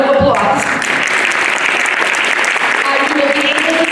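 An audience at a fifth grade history presentation claps for the students, a loud, close, continuous burst of applause with a few voices mixed in.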